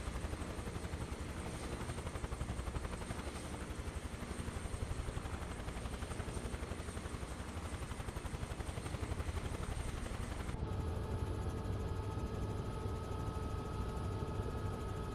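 Simulated helicopter in Microsoft Flight Simulator 2024 on PS5 Pro, a steady dense rotor and turbine drone that holds throughout, with a brief shift in tone partway through.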